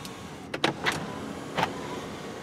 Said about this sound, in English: Another nice feature is the standard panoramic moonroof. The sunshade is power operated.